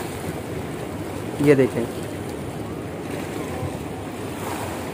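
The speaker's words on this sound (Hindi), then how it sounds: "ये पीछे से काफ़ी प्रेशर से निकलता है पानी" Water rushes out under pressure below Qadirabad Barrage on the Chenab River in Pakistan, a steady broad roar mixed with wind, with a brief spoken voice around the middle.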